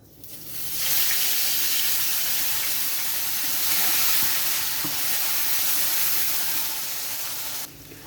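Spice paste frying in a pan: a loud, continuous sizzle rises abruptly after a quiet start, holds steady with light stirring scrapes, then cuts back down near the end; no talking.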